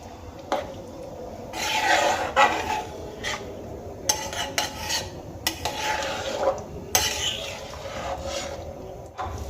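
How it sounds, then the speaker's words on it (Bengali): Boiled mung dal with fish head and spices being mixed in a pot, a steady scraping, rasping stir with brief louder scrapes and clinks, close and continuous throughout. "এবার মাছের মাথা আর সমস্ত মশলার সঙ্গে ডালটা আমি খুব ভালো করে মিশিয়ে নিয়েছি"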